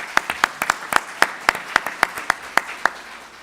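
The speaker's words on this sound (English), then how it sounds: "Let's give him a round of applause." Applause at a political summit event comes as a string of sharp, distinct claps in a quick, even rhythm. They sound close and clear, like a few hands rather than a large crowd, with no talking over them.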